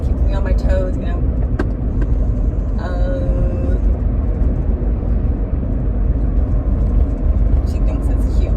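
Interior of a moving 2009 Toyota Prius, a steady broadband road and engine rumble with a few faint clicks and tones over the top, constant level throughout.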